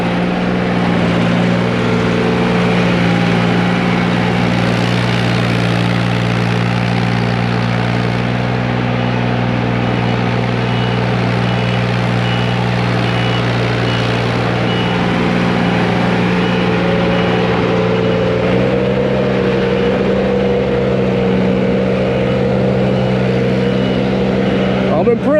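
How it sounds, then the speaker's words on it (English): Compactor engine running steadily while compacting a dirt building pad, a continuous loud drone with low harmonic hum throughout, unbroken for the whole stretch. "Matt's running over with the compactor"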